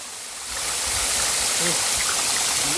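Rushing water from a waterfall fills the clip with a dense, steady roar that swells slightly after the opening half-second and then holds loud and close, with no speech heard.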